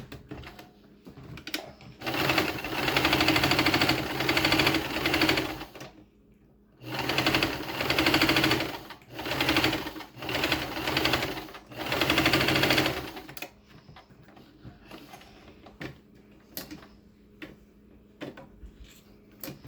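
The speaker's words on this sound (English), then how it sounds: "So now I'm going to do another running stitches here." A sewing machine runs a line of running stitches in three long bursts of steady, loud, rapid whirring, separated by short pauses. It ends in quieter handling clicks, with no talk.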